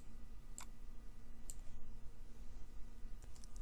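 Computer mouse clicks while selecting 3D views in medical imaging software, a few sharp, faint clicks spaced irregularly over a quiet room hum.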